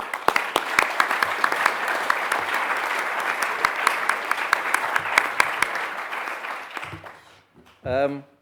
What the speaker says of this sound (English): And I think we should all give them a big round of applause.